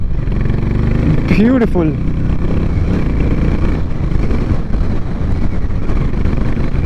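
A Harley Davidson X440 motorcycle rides along with a constant engine drone and heavy wind rush at the microphone, while a rider speaks briefly over it.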